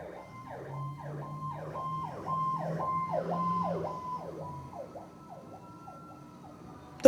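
Wailing emergency sirens sweep up and down repeatedly, heard from a distance outside a house, with a lower siren tone underneath that fades partway through.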